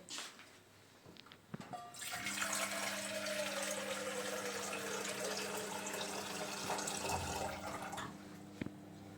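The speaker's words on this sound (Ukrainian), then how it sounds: "Наливаю у чисту кастрюлю води." Tap water pours into a clean saucepan, starting after a few soft clinks and then running as a steady, loud rushing stream for several seconds before cutting off.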